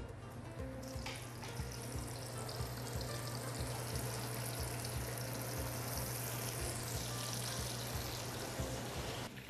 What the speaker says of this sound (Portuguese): O óleo tem que estar em temperatura adequada a uma fritura e vamos colocar o peixe